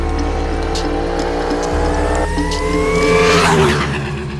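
A Chinese QJ Motor motorcycle accelerates hard, its engine note climbing steadily in pitch through a gear change and swelling louder toward the end, with heavy wind rush throughout.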